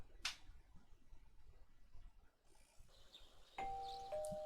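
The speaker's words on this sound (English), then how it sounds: "Who's ringing my bell?" A doorbell rings in the game Persona 4 Golden, a bright chime near the start, followed later by sustained electronic tones, all faint against low background noise with no talking.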